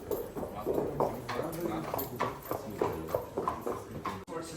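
Horse hooves clip-clop in a steady walking rhythm on a hard floor at a Vienna carriage stable, close and distinct, with a person talking over them.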